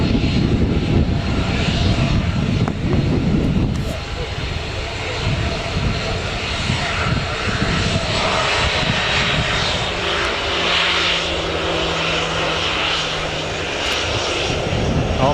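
A fixed-wing aircraft's engine roars loud and steady at Newcastle Airport, heard from nearby with outdoor ambience. Near the middle a low droning tone rises, and no speech is heard.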